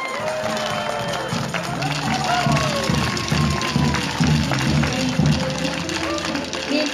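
Audience applause at a count of candidates for queen of the Divina Providencia festival, a steady crowd clapping close and loud throughout, with background chatter and voices mixed in.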